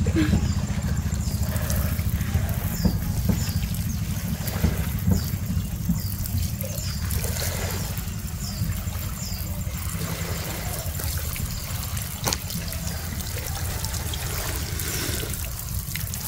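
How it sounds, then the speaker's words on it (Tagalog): A newly installed shower runs steadily, its spray making a continuous hiss that stays at an even level throughout. "Shower, power on."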